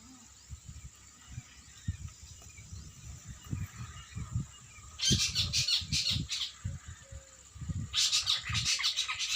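Low, repeated cooing pulses from a nearby pigeon, interrupted by two bursts of harsher squawking or flapping noise.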